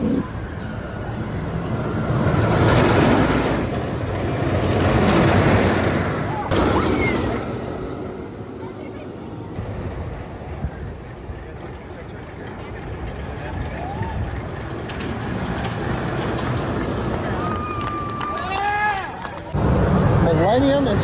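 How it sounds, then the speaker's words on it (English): The Millennium roller coaster at Cedar Point on opening day roars past nearby, a broad rushing rumble that swells and fades, with people talking close by throughout. "Millennium is running right by us right now."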